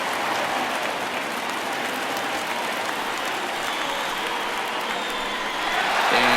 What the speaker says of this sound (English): This crowd is going crazy, as they should, recognizing the historic magnitude of really an unbelievable accomplishment.